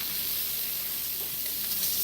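Shrimp sizzle in a pan for white wine garlic pasta, a steady, dense crackling hiss close by, with no voices.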